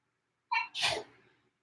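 A single sharp human sneeze, close and clear: a brief intake of breath followed by an explosive burst that trails off quickly into silence.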